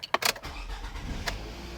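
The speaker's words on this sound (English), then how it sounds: "It fires up the engine." A car engine is started with a restored valet key: a couple of quick clicks and a jangle, then the engine catches and settles into a low, steady idle, close by.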